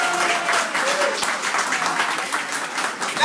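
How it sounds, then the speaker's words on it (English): Audience applause at a Three Kings Day Parade breakfast ceremony, honoring the madrinas: steady, dense clapping from a crowd, sustained and fairly loud throughout, with no speech over it. "Another big applause for las madrinas,"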